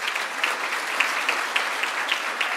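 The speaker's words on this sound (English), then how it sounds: "that deserves a round of applause" Steady applause from a graduation ceremony audience at a University of South Africa event in Mbombela, a dense even patter of many hands clapping continuously at moderate loudness with no talk over it.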